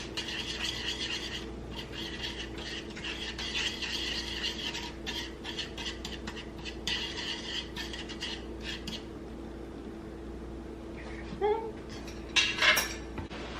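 Repeated scraping and rattling of a utensil against a pan of meat in bursts, with a steady background hum and a few clinks near the end.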